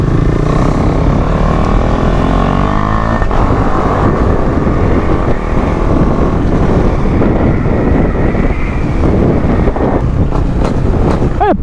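A KTM Duke single-cylinder motorcycle engine pulls hard under acceleration, its loud continuous drone swelling and shifting pitch with heavy wind buffeting over the microphone and no talking.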